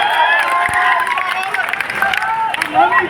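Political rally crowd in Samastipur cheering and clapping for a candidate, a dense roar of voices with scattered claps and shouts, loud and sustained throughout.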